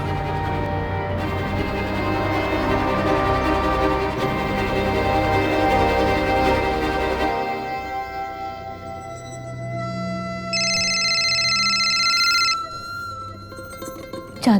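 A telephone rings in a tense Indian crime-drama scene, a repeated electronic ring standing out late over music and background sound.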